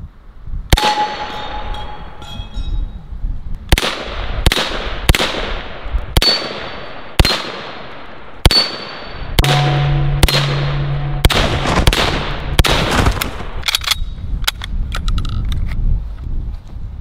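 Rapid M1 carbine gunshots striking a steel ram silhouette target outdoors, a dozen or so sharp cracks each with a metallic clang, fired at irregular intervals and then quickening into a fast string near the end.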